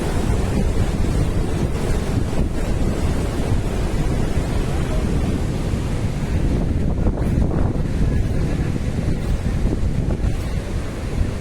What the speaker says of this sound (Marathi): बघा काय पाणी वाहतं आता बघा